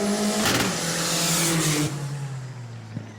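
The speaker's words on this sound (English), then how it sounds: "our little turbo there getting extra crispy coming across the line" A turbo race car crosses the finish line during spectator match racing at New Smyrna, its engine a loud, close roar that surges and then fades as it pulls away, ending with a brief sharp pop.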